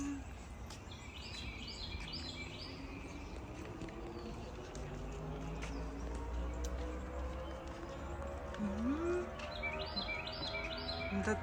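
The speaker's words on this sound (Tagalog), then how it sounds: "May mga ibon doon." Birds call from tall trees along a wooded park trail in Georgia, a few short chirps and thin tweets rising over steady outdoor background noise.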